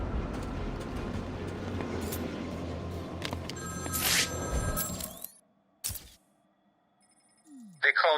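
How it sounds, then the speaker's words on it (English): A telephone rings in the Batman: Arkham City video game, giving bright, repeated ringing bursts over a noisy game soundscape. The clip goes quiet near the end, then another short tone sounds. "Answer my phone and answer it quick, Batman."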